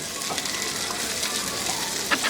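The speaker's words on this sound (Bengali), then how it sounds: "এগুলোকে নেড়ে চেড়ে হালকা ভেজে নেব পেঁয়াজটা একটু হালকা বাদামি হওয়া পর্যন্ত" Thickly sliced onions fry over lower-medium heat in a pan, giving a steady soft sizzle with light scraping and stirring clicks throughout.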